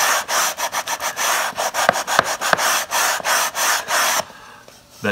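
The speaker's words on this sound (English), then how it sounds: "I have a self-adhesive sanding disc, and I put it on there, and I just sand with that disc" Wood stock for a Shaker-style door is sanded by hand with a self-adhesive sanding disc on a block, giving loud, rhythmic back-and-forth rasping strokes, about a dozen in quick succession, then a quieter pause.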